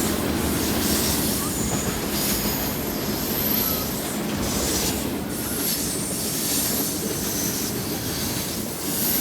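BNSF double-stack intermodal freight train with 155 cars rolls past on the Chicago–Seattle main line at Carkeek Park, a loud, steady rumble with wheel squeal and rattling cars throughout.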